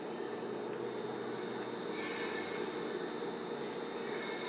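A Fona filling machine runs a cycle with a steady, loud mechanical whir and hum throughout, a brief rise in hiss partway through and no pauses.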